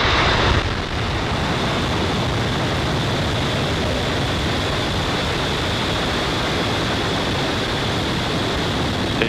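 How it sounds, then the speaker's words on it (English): A Falcon 9 rocket lifts off with a loud, continuous broadband roar that rises sharply after a brief quieter moment and then holds steady and dense, with no voices over it. "Ignition and liftoff."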